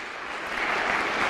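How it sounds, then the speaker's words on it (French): Conference audience applauding to welcome a speaker, a brief, steady wash of many hands clapping, moderately distant and continuous, with no talk over it. "sous vos applaudissements"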